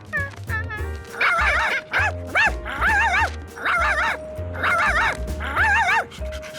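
A cartoon dog from Curious George lets out a run of high, yappy barks and yips mixed with whiny whimpers, loud and close, in quick uneven bursts.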